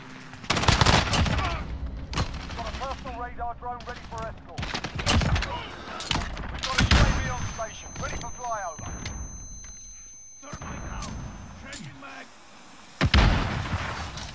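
Gunfire in the Call of Duty Modern Warfare beta, loud sharp shots and bursts scattered unevenly across the stretch, with a player talking in between and game radio chatter underneath.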